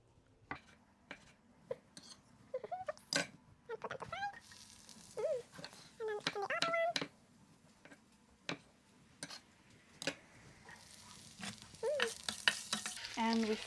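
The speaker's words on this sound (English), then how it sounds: "And we fry them for a little bit." Chopped garlic pieces sizzle in a pan for a pasta dish. The sizzling is close and fairly quiet, broken by brisk clicks and clatter of stirring, and a voice speaks over it in places.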